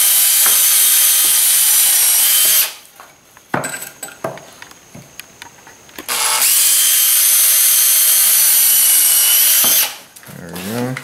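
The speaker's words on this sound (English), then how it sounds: "You pre-drill it for the deck screws." Power drill pre-drilling pilot holes in deck wood for deck screws, two long loud whining runs of several seconds each separated by a quieter stretch of handling clicks and knocks, close up.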